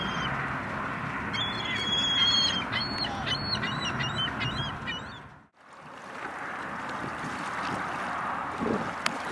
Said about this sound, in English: Different kind of a gull.